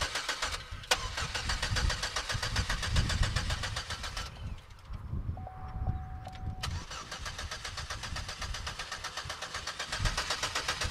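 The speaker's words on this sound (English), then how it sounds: "That doesn't even want to start." A Chevrolet Equinox engine cranks repeatedly and struggles to catch, with a rough, continuous churning close by; a brief pause and a chime break the cranking partway through before it resumes.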